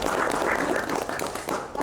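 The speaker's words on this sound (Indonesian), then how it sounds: "Jadi tepuk tangan sekali lagi dong untuk LBC." A crowd at an Indonesian literary appreciation evening gives a round of applause for LBC, a dense, loud burst of many hands clapping for under two seconds.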